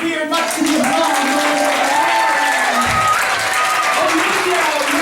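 Theater audience applauding at an adventure stage show, a steady wash of clapping with some crowd noise running throughout, alongside a sustained tonal voice or music layer.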